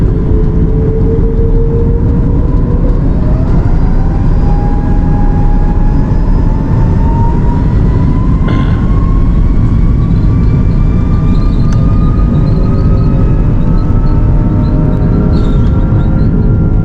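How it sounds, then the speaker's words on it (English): A British Airways Boeing 777 roars down the Antigua runway on takeoff, a loud, steady engine rumble with a rising whine that climbs gradually, heard from inside the cabin. "as we rotated off the runway at Antigua"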